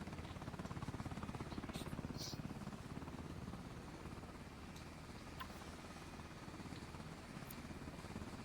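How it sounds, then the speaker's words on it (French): Helicopter in the video game BRM5 circling overhead, a steady loud rotor and engine drone filling the whole stretch with faint voice fragments over it. "Hélicoptère, vous me refaites des tours."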